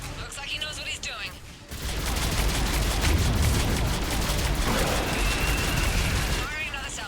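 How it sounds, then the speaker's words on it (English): A dense, rattling roar of a missile salvo launching in Mass Effect 3 swells in and holds for several seconds, with crackling bursts under it and radio-style voices at the edges. "Firing another salvo."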